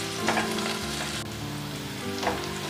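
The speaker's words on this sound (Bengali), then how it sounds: "আর একটু পেঁয়াজটা ভেজে নেবো আমি" Onion frying in oil in a pan for a tilapia fish curry, a steady close sizzle with light stirring scrapes, loud and continuous with no talk.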